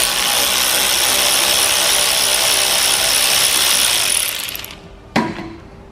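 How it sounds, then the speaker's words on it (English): A loud, continuous ratcheting whirr of metal mechanism runs close up as a spanner loosens a bolt and nut on a Scott Bonnar 20-inch Unicorn lawn mower during a teardown. It stops abruptly near the end, followed by a single sharp metallic clank. "So I've got a little spanner there now to hold it."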